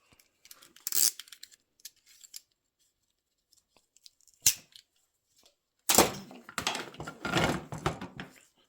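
Scissors snip through the end of a rubber Elastostart starter handle on an MS460 chainsaw, giving a few faint scattered cuts and then a louder cluster of crisp, close snips with handling rustle.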